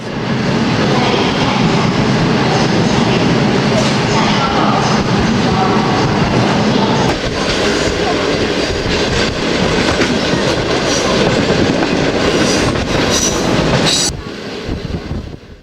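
A long-distance train in China running on rails, loud and continuous rumbling with rhythmic clatter and rolling wheel noise throughout, ending in a brief drop.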